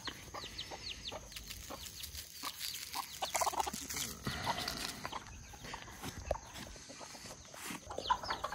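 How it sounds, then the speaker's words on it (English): Small bantam chick and hens clucking at a flea market poultry stall, soft scattered clucks and chirps over a busy outdoor background. "This little lone chick over here."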